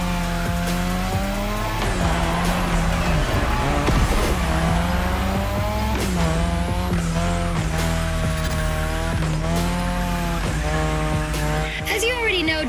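Car drifting on a Japanese drift track in The Crew Motorfest, a steady engine drone with harmonic whine rising and falling as the revs change, with tire squeal layered in near the end and continuous throughout.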